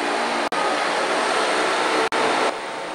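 A loud, steady whirring roar from the swivelling main motor of an autonomous airship's gondola during ground testing, broken by two abrupt brief dropouts and then continuing slightly quieter.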